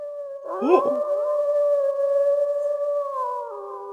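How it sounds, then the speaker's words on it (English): Several wolves howl together from a forest in the Spice & Wolf video game, long sustained overlapping tones rising in after a brief burst and holding steady, clear and fairly loud with no talk. "Holo's howl was met with similar wolf howls from the direction of the forest."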